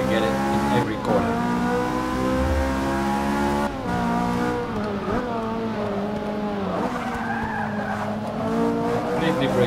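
Ferrari sliding through corners in Forza Motorsport 6 career racing, engine droning loudly with sustained tire squeal and skidding throughout, shifting pitch as the car breaks out, with a voice talking over it.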